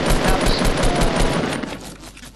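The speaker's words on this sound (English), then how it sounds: "Who's shooting at me?" Rapid automatic gunfire in the Fortnite Battle Royale game, a loud dense burst of quick shots that thins out and fades toward the end.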